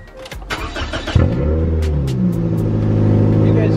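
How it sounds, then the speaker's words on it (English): A Toyota Echo with a badly broken exhaust cranks briefly, then catches and settles into a loud, raspy, steady rumbling idle, close up. "So I'm gonna start this up and well, you can hear what the exhaust sounds like right now."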